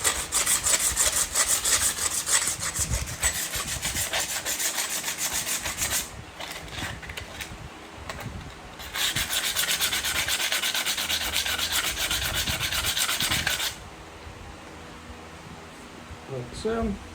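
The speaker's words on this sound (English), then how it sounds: "Also going to take some sandpaper, clean the magnet up on the flywheel." Sandpaper scrubs steadily against the magnet on the flywheel of a vintage 1967 Montgomery Ward lawn tractor, a close, continuous rasping in long back-and-forth strokes with brief pauses between bursts.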